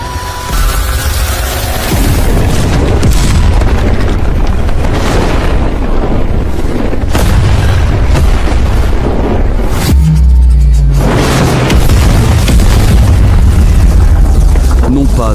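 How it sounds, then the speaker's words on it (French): Booming explosion as the entire planet Zeno blows apart in a dramatic narrated story, a loud sustained roar with rumbling bursts and a deep blast surging near the end. "la planète entière de Zeno explosa"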